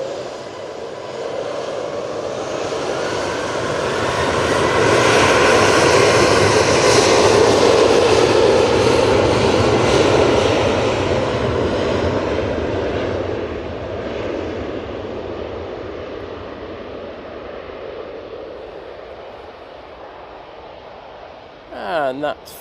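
A Finnair Embraer jet takes off from Manchester Airport for Helsinki, its engine roar building to a loud, sustained peak and then slowly fading into the distance, with a voice talking over it.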